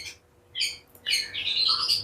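Several short, bright magpie-robin calls arrive in quick bursts, clear and close, with a longer chirping phrase near the end and quiet gaps between.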